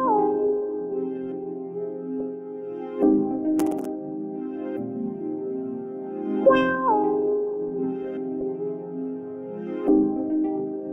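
Atlanta trap beat melody built in FL Studio, a sustained synth or keys pattern looping with chord changes every few seconds and small bright accents, steady and mid-level with no drums yet.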